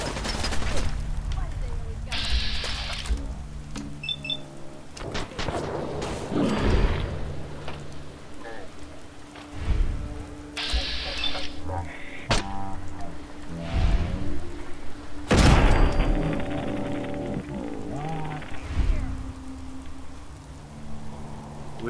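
Gunfire in a Fallout 4 firefight with raiders, heard as sporadic shots and short bursts spaced through the scene, with people talking in between.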